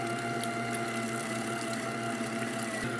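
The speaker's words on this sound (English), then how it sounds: "the last bit of pork going through the grinder" Meat grinder forcing pork through a coarse disc, a steady loud motor hum and grinding drone running without a break and with no talk.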